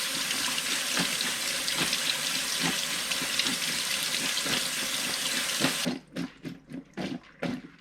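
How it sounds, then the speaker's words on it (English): Cold tap water gushes in a steady, splashing stream into a pot for several seconds, then cuts off, leaving a few scattered clinks and drips. "Can you pour some cold water into it?"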